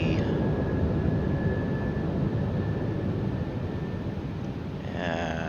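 Steady loud jet engine rumble in the cockpit of a Fly By Wire A320neo in Microsoft Flight Simulator as the landing gear lowers, with a thin tone fading out and a brief mechanical whir near the end.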